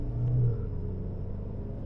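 A 2022 Subaru WRX with a CVT transmission climbing a hill: low steady engine rumble from inside the car, briefly swelling near the start, then an even drone.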